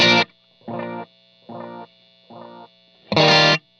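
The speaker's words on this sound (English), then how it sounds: "So it sounds like this when I'm using that delay pedal." An electric guitar with a distorted tone plays through a DD20 delay pedal set to quarter notes: a loud strummed chord, then three evenly spaced, fainter repeats, then another loud chord, all in a quiet room with no talking.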